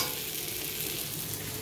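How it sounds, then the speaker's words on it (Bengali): Potato and pointed gourd curry sautéing in a pan gives a brief, steady sizzle at close range, with no talking. "কষা হচ্ছে"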